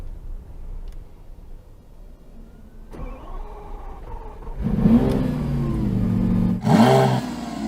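A Lamborghini Aventador SVJ engine cranks on a cold start and fires up, then settles into a loud, deep idle rumble with a sharp rev burst near the end.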